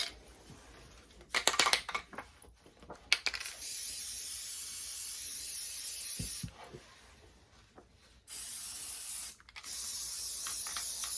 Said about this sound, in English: spray this container